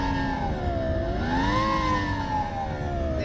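A SoundRacer device imitating a Lamborghini Gallardo V10, its synthetic engine note revving steadily, the pitch rising and then easing back down in one continuous, loud, close-up drone with harmonic overtones and no talk.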